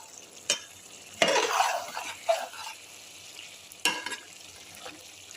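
Curry dry-frying in a pan for an Indian pulao side dish, with faint sizzling under a few sharp spatula scrapes and stirring strokes against the metal, close by.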